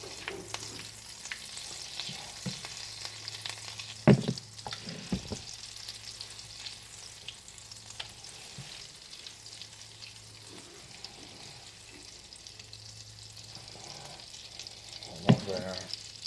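Butter and oil sizzle in a frying pan over medium heat while hash browns are being prepared, a soft, steady crackle with two sharp utensil knocks against the pan, no voices.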